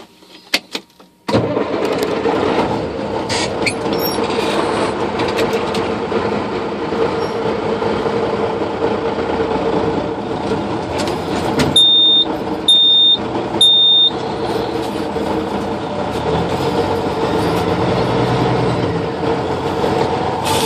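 Amish tow truck engine held at steady gas, a loud sustained roar that kicks in abruptly after a brief quiet start and drones on evenly, with a few short electronic beeps partway through.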